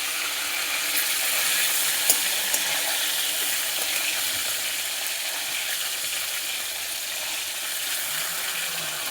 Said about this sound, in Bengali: যতক্ষণে মাছটা ভাজা হচ্ছে